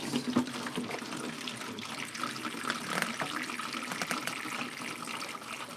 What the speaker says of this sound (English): Juice is squirting out.